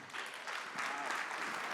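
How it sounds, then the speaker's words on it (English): An audience applauds two speakers on stage, a dense, steady wash of many hands clapping that stays loud and even for the whole stretch. "please give Is-Haka and Marilyn a big round of applause"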